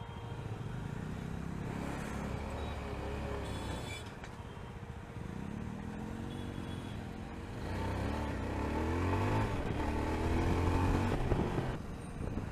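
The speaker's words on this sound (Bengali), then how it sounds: "আমার বাইক এখন ছোটার জন্য কেমন ডাকছে" A motorcycle's engine rumbles and revs on a mountain road, rising in pitch and growing louder toward the end, with traffic passing nearby.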